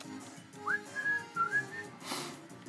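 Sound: person whistling

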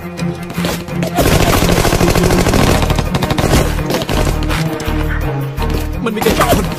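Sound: gunfire in a war film

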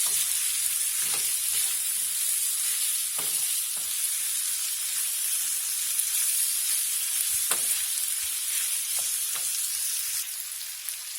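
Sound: meat being sautéed in a pan

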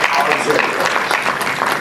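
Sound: audience applauding the award winner at a ceremony

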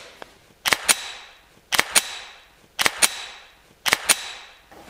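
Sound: pistol magazine with bullets inserted into the gun

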